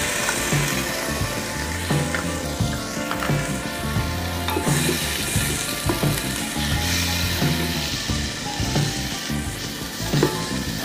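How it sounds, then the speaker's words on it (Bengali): Onions frying in oil in a pan until golden brown, for a mutton yakhni pulao, giving a steady close crackling sizzle with occasional stirring scrapes and no talk. "এটাকে যতক্ষণ পর্যন্ত পেঁয়াজগুলো গোল্ডেন ব্রাউন না হচ্ছে তখন ভেজে যাবো"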